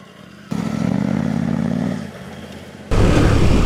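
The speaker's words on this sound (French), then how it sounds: "Je confirme que parcourir cet endroit-là à moto est un véritable bonheur." A Honda Transalp motorcycle rides mountain trails, its mid-pitched engine rising in a short rev, easing off, then surging louder again near the end, close to the microphone.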